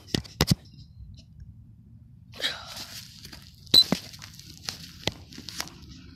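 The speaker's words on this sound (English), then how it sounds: "I took that giant ice block and I was smashing it" A giant block of ice being smashed outdoors gives sharp, brittle cracks and clinking shatters, a quick pair of hits early, then scattered impacts and crumbling debris over a quiet background.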